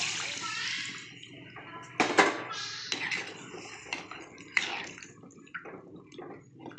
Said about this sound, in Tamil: இப்போ கரைச்சி ரெடியாக வச்சுருக்க புளி கரைசலை சேர்த்துக்கலாம்.